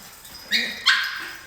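Two dogs of noticeably different sizes playing together, giving two short, sharp barks a moment apart over a quiet background, close by and moderately loud.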